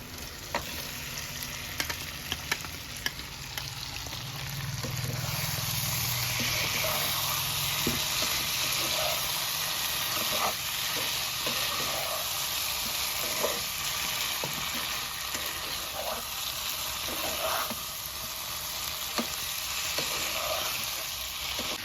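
Potatoes and meat fry with masala in a pan, giving a sustained close sizzle with occasional stirring clicks and a low hum early on, with no speech.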